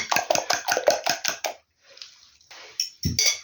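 A utensil scrapes and clanks against a frying pan in quick, rhythmic strokes while mixing pasta, pauses briefly, then stirs a few more times.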